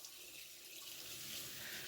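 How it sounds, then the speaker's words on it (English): Hot water runs from a tap to wet a cloth, giving a steady, close hiss of flowing water at an even level throughout, with no talk. "get a cloth and wet it with some hot water"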